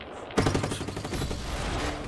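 A sudden burst of rapid gunfire in the video game Just Cause, several quick shots that settle into a continuous rattling barrage, loud and close, with no voices.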